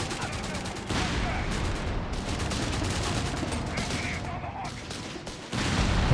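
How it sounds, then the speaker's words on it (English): Machine gun fire from the MG of a StuG in the Company of Heroes 3 strategy game comes as dense, continuous rattling bursts of gunfire that build louder toward the end. "This is the MG, not the grenade launcher"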